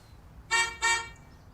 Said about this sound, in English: Oh, that's the car horn.